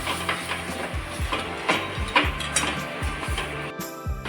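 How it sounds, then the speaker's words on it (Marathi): Sugar and salt are sautéed in a pan for Maharashtrian mango leather, with repeated scraping strokes of a spoon against the pan in a steady rhythm over a soft sizzle, close and without talk. "आता हे आपल्याला छान असं परतून घ्यायचं आहे"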